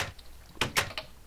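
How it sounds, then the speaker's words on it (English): A wooden door swings shut in the video game Minecraft, giving a few quick, close clacks in succession. "So let me close my door so."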